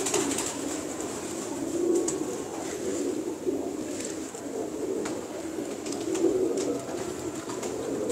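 Pigeons of a home-mixed breed called silver-eye coo steadily in low, rolling calls, close by and continuous over a faint background hiss, with no talking.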